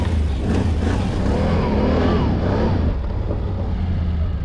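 A 2021 Can-Am Outlander 850 XT ATV ridden on snowy back trails, its engine a loud, steady low rumble close by with slight revving swells throughout.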